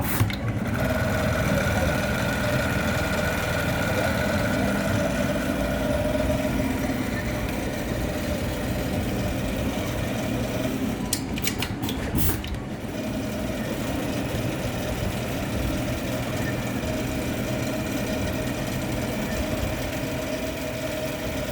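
A PS800-8045 sewing machine runs continuously with a loud, steady mechanical whir for about twenty seconds, broken midway by a few sharp clicks.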